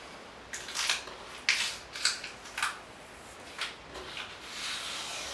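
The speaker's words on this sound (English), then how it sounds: "So I'm going to try to peel it off wet." Wet material peeled off a surface during a 1930s farmhouse renovation, several short ripping and tearing strips close by, separated by quiet pauses, no talking.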